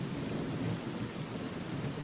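Steady rain pours over a dark, game-like night scene while low thunder rolls and rumbles underneath, a dense continuous ambience with no talk.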